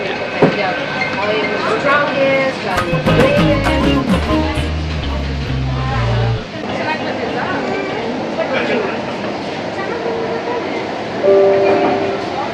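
A metro train runs with a steady rumble and rail hiss under lively conversation among passengers, a low horn-like tone in the middle, and a brief chime near the end.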